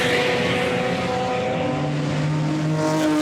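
Racing cars in the Scott Brown Trophy race roar past on the circuit, a continuous loud engine drone with shifting pitch as cars pass, no talk heard.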